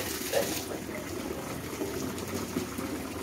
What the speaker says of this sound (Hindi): समर के चालू कर दिया अभी